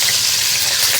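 A short burst of water pouring into dhokla batter with salt, a bright splashing rush filling the brief moment alone.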